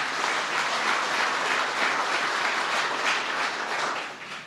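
An audience at a political event honoring Korean War veterans gives sustained applause, a dense, loud wash of clapping from many hands that fades slightly at the end, with no speech over it.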